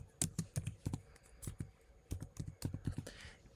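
Quick bursts of typing on a MacBook keyboard, irregular clusters of clicky keystrokes with short pauses between, close and fairly quiet.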